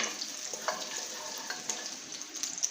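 Steady sizzle of food frying in oil on a stove set to medium, for Jamaican yard-style oxtail and beans; close, moderately quiet crackle with small pops scattered throughout and no talk.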